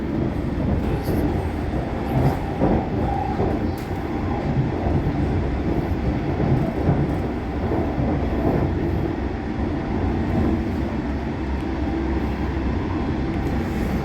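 A London Underground Metropolitan line train runs at steady speed, giving a loud, continuous rumble with rail clatter that holds evenly from start to end, with no talk.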